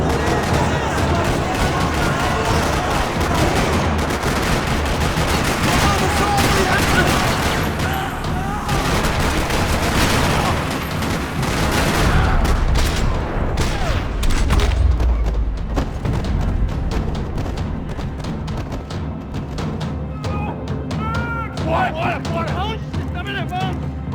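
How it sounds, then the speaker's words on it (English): Dense, continuous gunfire fills a parking lot shootout in the video game Max Payne 3: overlapping rapid shots and heavy booms rattle on loudly for the whole stretch before thinning slightly near the end. "Another parking lot rattling with gunfire."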